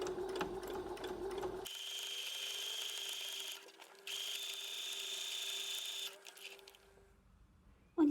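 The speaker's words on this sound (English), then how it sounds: "just sew a straight stitch all the way down that edge" A sewing machine runs a straight stitch along the edge of a rolled hem on a fabric lunch bag, humming steadily in two long bursts with a brief stop between, close and fairly quiet.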